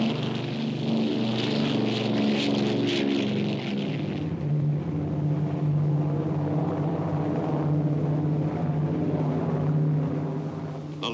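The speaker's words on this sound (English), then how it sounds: "7th Air Force bombers began a series of strikes against that enemy stronghold" Engines of a 7th Air Force B-24 Liberator bomber drone in a loud, continuous, steady roar, with no talk over it.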